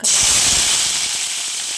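Cumin seeds and three or four green chillies hit hot oil and sizzle with a sudden loud, bright hiss that holds steady and close, with no talking over it.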